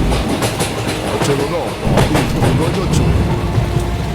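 A night train in a Bangla horror cartoon rumbles steadily with a rhythmic clickety-clack under heavy rain, loud and continuous throughout.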